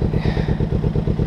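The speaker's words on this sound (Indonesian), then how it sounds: "Overall gue suka banget suara suara stereo 2 silinder ini." A Kawasaki Ninja two-cylinder motorcycle engine runs close by with a steady, loud, evenly pulsing throb, its firing beats repeating in a tight rhythm with no voices.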